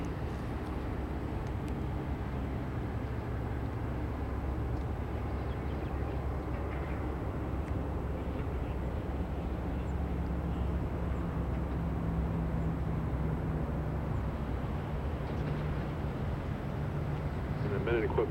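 A pair of F-4 jet fighters take off, heard as a steady, even roar of low rumbling jet noise that holds for the whole stretch without clear peaks, with no talk over it.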